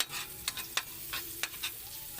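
Garlic sizzling in melted margarine while being stirred until browned, a steady close frying hiss broken by several sharp scraping strokes of a utensil in the pan.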